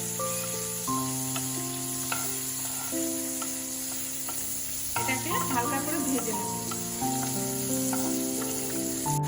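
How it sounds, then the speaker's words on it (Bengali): Paneer fries in a pan with a continuous soft, hissing sizzle, joined by a brief burst of bubbling spatters midway, all under steady background music. "পনিরটা ভাজা হয়ে গেছে দেখো ব্রাউন হয়ে গেছে"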